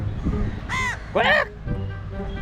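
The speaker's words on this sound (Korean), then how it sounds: "까마귀다." A crow gives two loud, harsh caws close by, one brief and one longer, over steady outdoor background noise near a traditional Chinese fishing net site in India.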